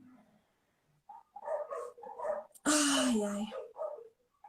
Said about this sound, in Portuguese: tá dando muito para ouvir meus cachorros latir?